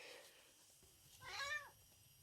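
A pet cat at home gives a single soft, short meow, close but quiet against a faint room hum, with no talk.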